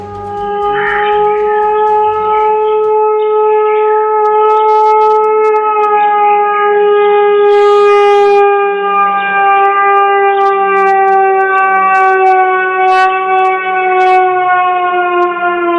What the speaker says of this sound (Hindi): सियालकोट में जंगी सायरन रात भर बजता रहा।